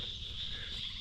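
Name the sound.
frogs croaking in the background at a campground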